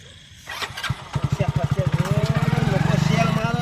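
A motorbike engine cranks and catches, then settles into a rapid, close, steady idle thudding, with people talking over it.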